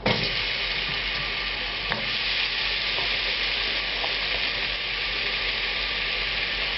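Quartered apple frying in vegetable oil in a hot pan, a loud, steady close-up sizzle throughout with a few faint scrapes and taps of stirring.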